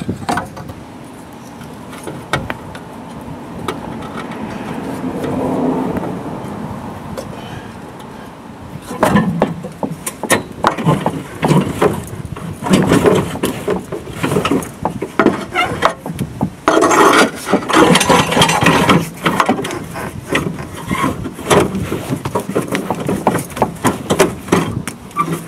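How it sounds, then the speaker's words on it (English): A VE Commodore exhaust is worked free of its rubber hangers underneath the car, with clunking, scraping metal and rubbing, steady and close, getting busier and louder partway through. "There you go guys, that's the exhaust pulled out."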